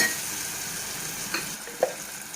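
Turmeric frying in hot oil for capsicum egg curry, a soft steady sizzle with two brief scraping clicks of a spoon being stirred in the pan.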